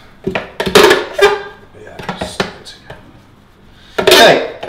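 Paleo chocolate ball mixture being stirred in a bowl makes a few loud, close clattering and scraping bursts separated by brief pauses, with one final burst near the end.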